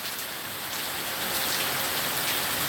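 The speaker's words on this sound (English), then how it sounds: "Got more rain coming." Steady rain pouring down during a pop-up storm in Virginia, a dense continuous hiss of drops on surfaces, loud and close with no pause and no voices.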